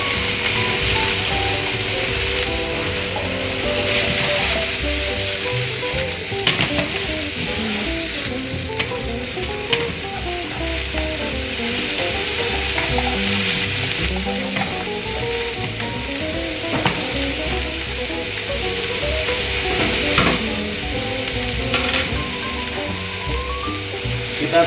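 Chicken pieces and chopped onion frying in a pan, a loud, steady close sizzle and crackle lasting the whole stretch, with occasional scraping stirs and small pops, no voices.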